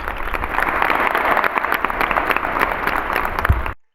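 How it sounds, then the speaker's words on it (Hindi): Applause breaks out for Ansh, winner of a children's race at a gurukul sports day, a dense steady clapping from a group that runs nearly four seconds before cutting off abruptly. "ताली बज जाए इसके लिए"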